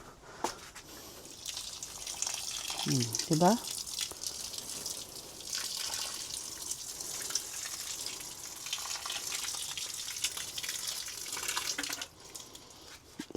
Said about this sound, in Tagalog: lagyan natin siya tubig dito.